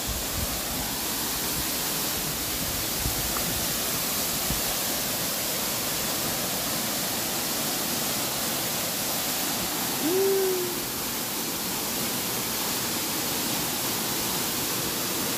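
Kasalan Falls in Negros Oriental pours as a steady, even broadband rush of water, continuous and moderately loud with no breaks, plus a faint brief tonal chirp midway.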